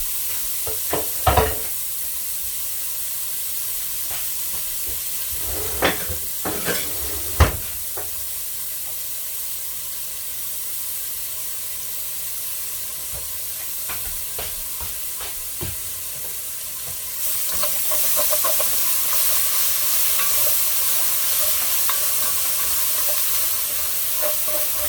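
Onions and ginger sizzle steadily in a pan for oxtail stew, with a constant frying hiss and a few sharp stirring clacks. The sizzle swells louder toward the end, and no one speaks.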